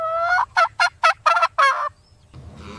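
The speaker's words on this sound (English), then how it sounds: "This is a small black farm turkey." A small black farm turkey gobbles in a rapid string of about six loud, warbling pulses, close and alone, followed by quiet and a faint rustle.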